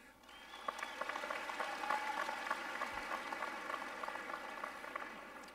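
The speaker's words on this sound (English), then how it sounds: "I hope that applause is not for him to go" Sustained applause from a large audience at a Monmouth University commencement ceremony in May 2013, a dense steady wash of many hands clapping that continues for several seconds without talk.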